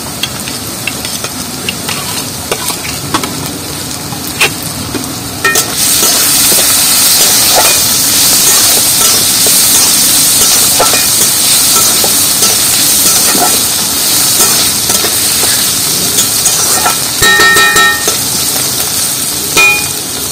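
Chopped garlic hits hot oil in a pan while cooking a green-banana kebab and sizzles loudly and steadily, with occasional stirring scrapes, after a quieter start.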